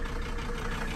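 A Mercedes 300SD engine, left sitting about two years and now restarted on a cold day, runs at a steady idle, a dense, even rumble heard up close for about a second.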